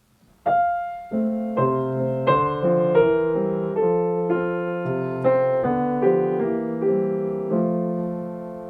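Solo piano playing a passage from a Schumann fantasy, three interwoven melodies over a flowing accompaniment, with sustained chords and notes entering one after another at a gentle, moderate volume.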